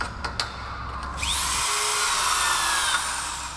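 A press-fitting tool crimps stainless steel plumbing pipe: after a few faint knocks, an electric motor whine starts and holds steady and fairly loud for about two seconds, with no talking.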